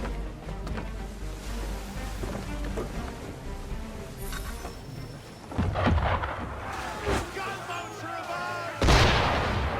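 Ship cannon fire in the video game Assassin's Creed 3, heavy booming blasts rolling over ocean surf and ambient noise, with several loud impacts growing stronger toward the end.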